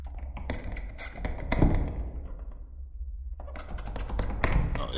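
A door taps and knocks inside the horror video game Welcome to Kowloon, giving a series of sharp, fairly faint raps over a low steady ambient drone, with no talking.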